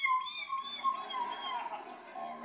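A Hawaiian mynah bird mimics a cat's meow, giving a string of short, nasal, wavering calls at moderate volume, heard on its own without speech.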